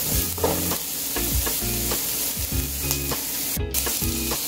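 Ingredients sauté in a pan for chop suey, browning for about five minutes before pork is added; a steady, close sizzle runs throughout with repeated stirring clatters from the spoon at a regular rhythm.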